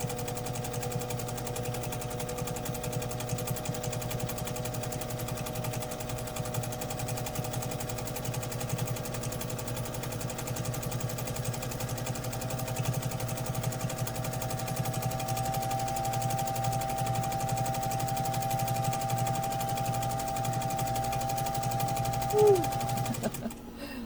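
A 1955 Singer 201-2 sewing machine running steadily and sewing, a continuous even motor hum with a fast mechanical whir that stays loud and close throughout, rising slightly in speed partway through.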